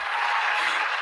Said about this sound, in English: I wanted to have of course, the applause ready